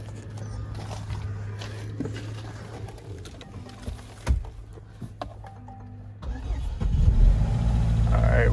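A Range Rover's engine cranks and catches near the end, rising into a louder rumble after a stretch of low steady hum and scattered clicks and knocks, with brief talk in between.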